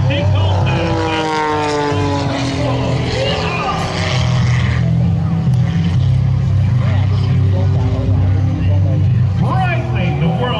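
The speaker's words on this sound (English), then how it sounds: "the Breitling CAP232 brings you a very unique way to take off the airplane" Propeller engine of a Breitling CAP232 aerobatic airplane taking off at the Blue Angels Homecoming airshow, a loud, sustained droning roar with rising and shifting pitch, under an announcer's voice over the public address system.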